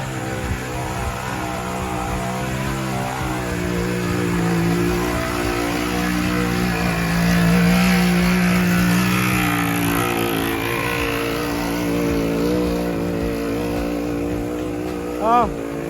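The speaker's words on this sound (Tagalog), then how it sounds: "Ang motor sa likod." Motorcycle engine revving behind riders on a steep uphill mountain trail, a steady droning motor with rising pitch sweeps held for most of the stretch, fairly close, with people talking over it.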